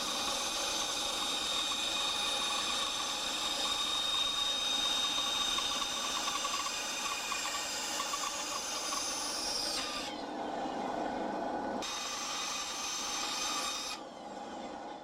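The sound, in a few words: cutting out a wooden knife handle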